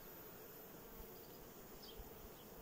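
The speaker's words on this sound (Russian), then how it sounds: "Пчела слетела." A honey bee buzzes faintly at a hive frame, a soft, continuous drone with no voices over it.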